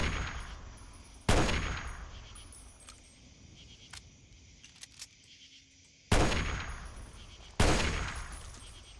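Victory Rifle fire in the video game Fallout: three loud, sharp gunshots ring out a few seconds apart, each with a long decaying tail, and softer game sounds and faint clicks fill the gaps.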